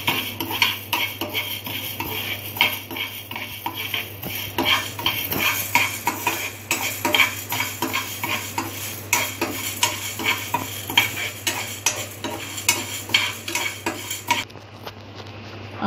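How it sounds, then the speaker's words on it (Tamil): Toor dal is dry-roasted in a pan while a metal spoon stirs and scrapes steadily, giving a close, repeated rhythmic scratching and clinking with a faint rustle of dry lentils, no voices. "துவரம்பருப்பு அதையும் அதுமாரி வறுத்துக்கணும்"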